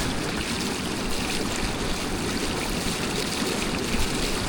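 Waves slapping against a small boat driven by a Newport NT600 6HP electric outboard at about 8 miles an hour, a loud, continuous rushing wash of water with no break or talk.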